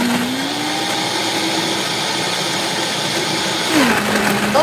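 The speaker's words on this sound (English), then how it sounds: "we're about to go ahead and blend this up" A Vitamix blender runs steadily and loudly at close range throughout, a dense continuous whir with a rising pitch shift near the end.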